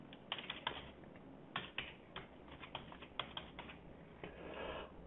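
Quiet, close typing on a computer keyboard while entering a first and last name, with irregular bursts of sharp key clicks and brief pauses between them, and no other sound.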